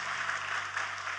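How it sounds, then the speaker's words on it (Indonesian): A church congregation claps together in a dense, steady wash of applause, heard from a distance at moderate volume. "Ayo kita kasih tepuk tangan yang paling meriah buat Tuhan kita"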